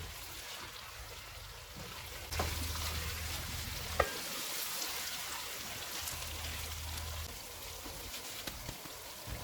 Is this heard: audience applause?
no